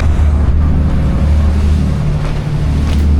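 A boat runs on two engines on the open sea in the Gulf, a loud, steady low engine drone with wash and water noise, no talk.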